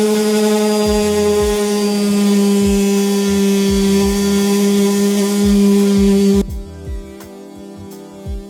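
A steady, whining motor hum with a rough grinding rasp and a rhythmic low thumping as a Gator sanding disc grinds off paint, then the machine winds down near the end.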